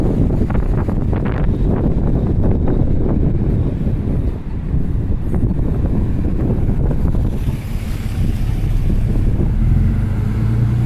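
Wind buffeting a microphone outdoors while walking along Connaught Ave, a loud continuous rumbling roar with gusty swells throughout.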